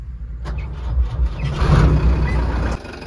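A Tata 909 BS3 truck with a stalling fault being started: a deep, rough diesel rumble builds and swells for a couple of seconds, then abruptly cuts out and leaves quieter background noise.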